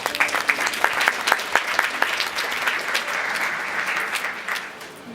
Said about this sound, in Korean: 그러면 다시 한번 큰 박수로 모시겠습니다